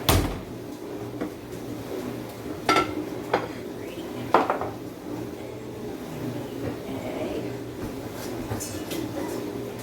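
Metal pots and pans clatter and clank in a few sharp bursts over a steady low kitchen hum, fairly close, with quieter handling between.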